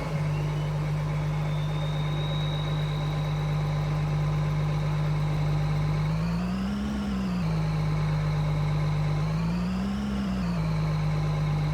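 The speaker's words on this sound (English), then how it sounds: "Let's start the engine first." A combine harvester engine in Farming Simulator 22 idles with a deep, steady drone, swelling in two brief revs partway through, with no talk.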